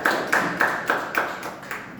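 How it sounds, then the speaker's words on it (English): Clapping at a joint Toastmasters club meeting, a series of crisp, evenly spaced claps sounding close and fairly loud, with a light patter of other hands behind them. "Give him a big round of applause."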